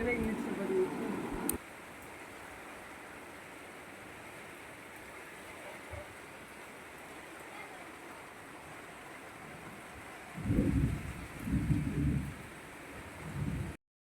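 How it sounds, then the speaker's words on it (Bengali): A steady broadband hiss of heavy rain pours on without pause, and a voice speaks briefly near the end. "আর কত জোর বৃষ্টি হলো দেখুন"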